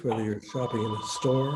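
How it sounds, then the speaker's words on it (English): A steady telephone bell tone rings through the background of an interview, sounding continuously beneath a man's ongoing speech and fairly prominent in the mix. "That's my phone"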